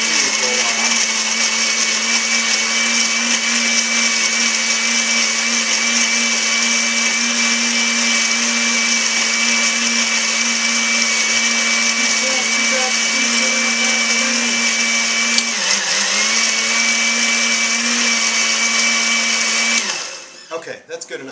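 An inexpensive $25 blender runs on high while making a smoothie, a loud, sustained motor roar with a steady pitched whine that dips briefly near the end before winding down to a stop in the last second.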